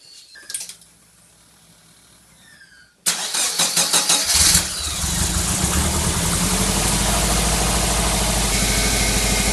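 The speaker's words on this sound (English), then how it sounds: "Let's see how she cranks the engine over." A car engine turning over after a new battery is fitted: a brief quiet moment, then a quick cranking whir that catches into a loud start and settles into a steady, even idle close by.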